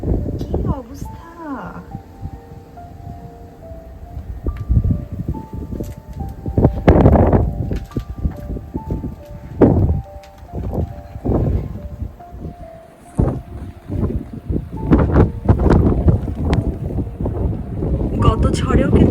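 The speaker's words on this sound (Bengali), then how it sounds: "তুষার ঝড় আর হাহাকার করা বাতাস মিলিয়ে এক ভয়ঙ্কর অথচ" Blizzard in Massachusetts with strong gusting wind roaring and buffeting the microphone in uneven surges, while a person talks over it throughout.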